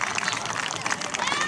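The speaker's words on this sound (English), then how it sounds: "Round of applause there to Zach" Crowd applauding a competitor's full-rotation caber toss at a Highland games event, a steady wash of clapping sustained throughout at moderate level, with some voices mixed in.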